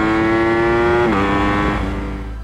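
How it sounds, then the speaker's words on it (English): A Ducati V4 Streetfighter pulls out of a hairpin hard in first gear with the front wheel lifting, its engine note a loud, rising drone that steps up, then fades as the bike moves away. "Out of this hairpin, first gear accelerate."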